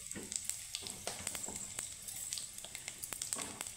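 Whole spices frying in hot oil for tempering: bay leaves, a broken dried red chili, whole cardamom and white cumin seeds. A quiet, close crackling sizzle runs throughout, broken by small pops and spatters.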